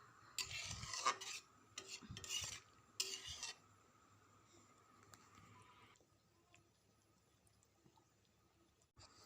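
A spoon scrapes and clinks around a pot of paneer curry, three loud bursts of stirring in the first few seconds, then quieter faint scraping and a soft simmer.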